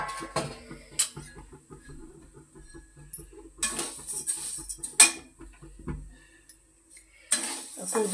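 Horse gram roasts dry in a pan, heard as scattered light rattling and scraping of the seeds against metal, with several louder clattering bursts of pan and utensil contact amid quieter stretches.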